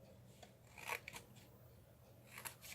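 Scissors snip through paper pieces for a botanical butterflies and flowers explosion box, giving a few quick, faint, close cuts spread over quiet room noise.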